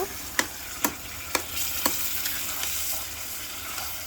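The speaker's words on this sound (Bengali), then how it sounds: "অলরেডি আমরা বাগার দিয়ে ফেলেছি তো এটা ঢেলে ফেলেছি" Vegetables sizzle in a pan on a clay stove after a hot tempering is poured in, a dense, steady frying hiss punctuated by four or five sharp clicks of a stirring spoon against the pan, close and with no talking.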